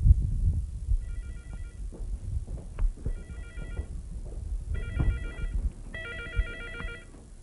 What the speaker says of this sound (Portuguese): Esse é o telefone celular, meu.